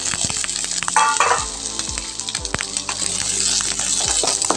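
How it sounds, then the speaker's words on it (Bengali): Chopped vegetables fry in hot oil with tempering spices for a shyama rice khichuri, giving a continuous close sizzle broken by a few sharp spatters and the clink of a stirring utensil against the pan. "দিয়ে ভালো করে সবজিগুলোকে আমি ভেজে নেব।"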